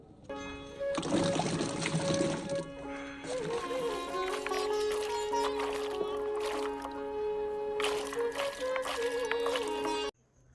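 Raw jujubes (boroi) are washed by hand in water, with steady sloshing, trickling and splashing running close by for about nine seconds, mixed with a bright tonal hum, before stopping abruptly.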